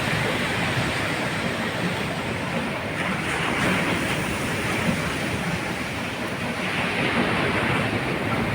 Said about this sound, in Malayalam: കടൽ കണ്ടോ, കടൽ കണ്ടോ, സെറ്റപ്പ് കടലായിരുന്നു.